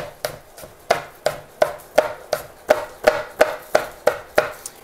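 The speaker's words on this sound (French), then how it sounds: "je vais rajouter une pomme verte. Que je vais aussi émincer assez finement." A knife slices finely through a green apple on a cutting board, a steady run of about a dozen crisp, evenly spaced cuts, close and clear with no talking.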